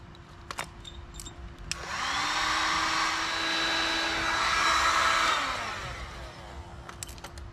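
A heat gun or hot-air blower whirs steadily for several seconds, melting solder-sealed wire splice connectors during a Honda CL450 motorcycle wiring harness repair, rising in and tapering off, with a few scattered clicks before and after.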